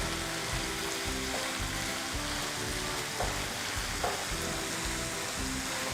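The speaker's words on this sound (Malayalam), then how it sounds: "നന്നായിട്ട് വഴറ്റി കൊടുക്കാം." Three green chillies sauté in a pan, sizzling steadily and close by, with a light rhythmic scrape of stirring under the continuous frying hiss.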